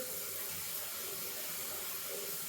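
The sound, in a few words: water running from a tap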